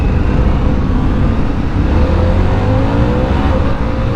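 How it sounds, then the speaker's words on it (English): A 2025 Harley-Davidson Pan America ST motorcycle accelerating through quick-shifter gear changes, a loud, close, continuous engine drone with rising pitch sweeps and wind rush, no voices. "Yep, I'm using that quick shifter and it's working good."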